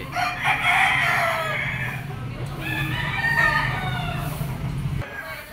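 A Boston gamefowl rooster crows loudly and close, two long crows back to back, over a low steady hum and faint background murmur.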